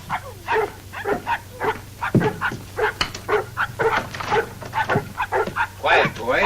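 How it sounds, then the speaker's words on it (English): Dogs in an old radio drama set in the Yukon barking, yipping and whimpering in repeated short bursts close by, mixed with people talking over them. "It's not a man. It's a dog. He's hurt. He's limping."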